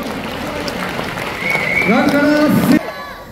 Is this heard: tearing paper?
no